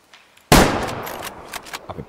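A single sharp rifle gunshot in the hunting video game Way of the Hunter cracks loudly, then trails off into a rumbling echo with a few smaller crackles afterward.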